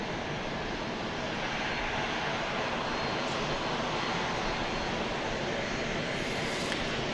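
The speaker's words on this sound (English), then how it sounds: "That's a DFW plane going to cross over the sun there" A plane flies over about 12 miles from DFW at night, a steady distant broadband engine rumble holding level throughout with no voices.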